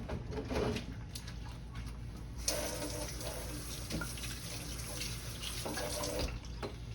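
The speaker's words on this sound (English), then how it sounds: "Wash my hands off of here." A tap runs steadily into a sink while hands rub and splash beneath it, soft and nearby, with faint birdsong in the background.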